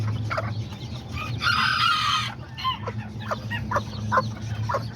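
Azteca and Serama chickens, roosters and hens together, cluck and call steadily with a loud burst of crowing midway, set against a low humming background.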